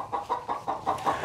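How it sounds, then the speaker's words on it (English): A hen on a dairy farm cackles after flying up onto the roost, giving a quick, rhythmic run of about six or seven clucks, close and clear, with no talking. "that chicken flew up there on the roost. She's cackling."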